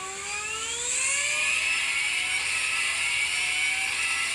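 A six-rotor naturally aspirated rotary engine revs hard on a dyno, its loud, steady scream rising in pitch over several seconds with no talking.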